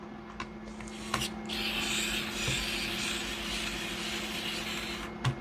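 Plastic scraping and rasping as the case of a Gaminja ANS01 mini PC is pried open with a tool, a steady close grinding rub with a few sharp clicks and snaps at the start and end.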